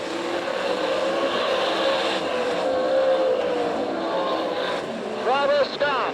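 Dirt track race cars in an All Stars vs NCRA race at Tulsa, Oklahoma in 2002 roar past in a loud, sustained engine drone with rising and falling pitch, while an announcer talks over them.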